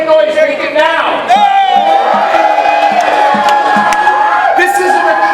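Crowd of union members at a rally at the California state capitol cheering, whooping and shouting loudly, a dense sustained roar with individual yells standing out.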